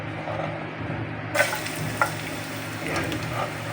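Garlic sizzles and fries in a pan for an eggplant adobo, with steady crackling and a couple of sharp stirring clinks, and no talking.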